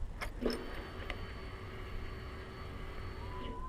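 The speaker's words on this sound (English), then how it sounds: "you probably heard the fuel pump prime" A faint, steady electric whine and hum of a motorcycle fuel pump priming, running for a few seconds after a couple of small clicks as the key is turned on, quiet and close.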